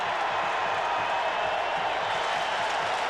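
A college football stadium crowd at a 1999 North Carolina vs. Clemson game roars steadily on its feet, a dense, sustained wall of cheering with no breaks.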